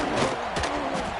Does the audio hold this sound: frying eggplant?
no